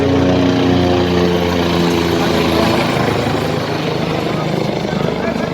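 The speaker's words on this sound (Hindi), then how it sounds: "और वो हेलीकॉप्टर जा रहा है" A helicopter flies past on the Kedarnath pilgrimage route, its steady rotor thump and engine whine loud and continuous throughout, with voices talking faintly beneath.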